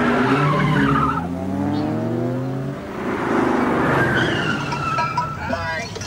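Car tires squeal loudly in long skids under a revving engine during a chase along a river, with a taxi in pursuit.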